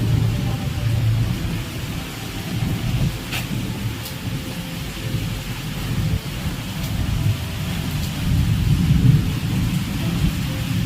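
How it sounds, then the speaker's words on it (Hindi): Steady rain falls in Bihar, India, with low rolling thunder rumbling beneath it and a few sharp drop hits standing out against the continuous patter. "तो बस यहाँ बारिश चालू हो गई"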